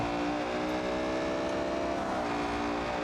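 A BMW accelerates hard in the BeamNG Drive racing game, its engine tone climbing steadily and loud without pause and without talk.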